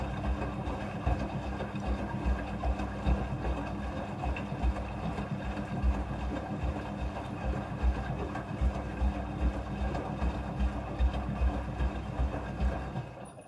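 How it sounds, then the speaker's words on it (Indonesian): A Midea front-loading washing machine runs its rinse cycle on a tablecloth, filling with water automatically: a steady, close mechanical drone with a low rumble and faint rhythmic thumping that continues unbroken throughout. "Pada proses pembilasan dengan air, mesin cuci akan mengatur jumlah kebutuhan air secara otomatis."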